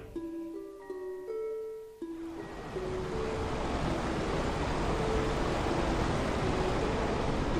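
Water drains in the Resident Evil video game after a lever is pulled. A loud, steady rushing wash rises after a couple of seconds of soft musical tones and keeps pouring without a break to the end.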